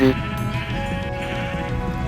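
Sheep bleating in the video game Minecraft, a single close bleat at the start followed by a dense chorus of game sounds and overlapping farm-animal noise, with no speech.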